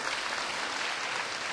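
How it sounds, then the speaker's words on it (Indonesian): A church congregation breaks into lively applause during a sermon, a short burst of dense, even clapping. "Tepuk tangannya meriah buat Allah kita."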